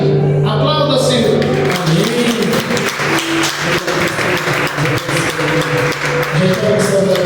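A church congregation claps together in sustained applause during a worship service, with music and voices layered over the steady clapping.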